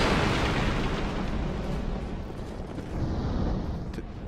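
Barrels exploding in Dark Souls II, a broad rumbling blast that fades slowly over a few seconds, moderately loud with no talking.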